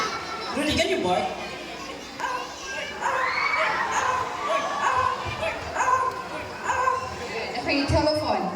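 A talking bird imitating a dog's barking at a live bird show, with short yips and bark-like calls scattered through steady crowd chatter and talk.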